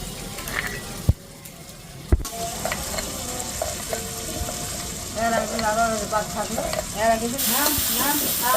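Frying in a pan while making mustard rohu fish curry gives a steady sizzle, punctuated by a couple of sharp knocks and scraping stir sounds, close up with no talk.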